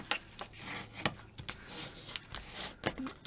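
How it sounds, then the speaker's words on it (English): Glued material on a jacket-to-field-guide book project is burnished down by hand with a tool, giving soft, close rubbing and scraping strokes in an irregular rhythm, faint and alone. "then I'm just going to burnish it down."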